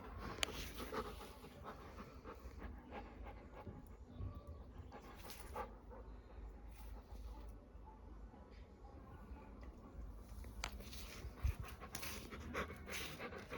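A Labrador pants steadily and rapidly, its quick breaths continuous and close, with faint low background noise throughout.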